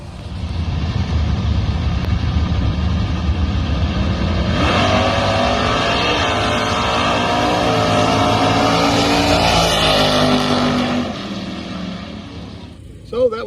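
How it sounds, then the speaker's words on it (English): A Barracuda drag car with a carburetor spacer roars down a drag strip, its engine building into a loud sustained howl that swells then fades as it pulls away, with a sharp knock at the very end. "So that was a drag race."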